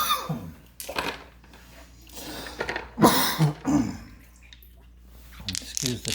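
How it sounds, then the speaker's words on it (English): A few sharp coughs and throat-clears from a person close to the mic, in short bursts with pauses between and some talking around them, during an indoor check on tumbled rocks. "Excuse the coughing."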